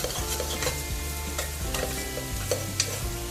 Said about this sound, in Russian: Масло растаяло, добавляю муку. И хорошенько перемешиваем, чтобы не было таких комочков.